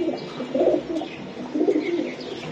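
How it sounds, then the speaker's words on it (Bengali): Pigeons coo in soft, low repeated phrases, two swelling bursts close by, from high-flying Giribaz pigeons kept at a loft. "এটি হলো ভালো কবুতর ভাই।"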